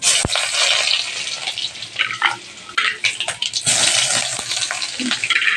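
Garlic hits frying dal in a hot pan, setting off a loud, crackling sizzle that swells and fades in bursts, with a few clinks and stirring noises mixed in.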